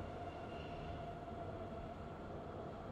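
A Frankfurt U-Bahn subway train in Train Sim World 2022 gives a steady, continuous low rumble with a faint tonal hum, heard from inside and unbroken throughout, with no talking.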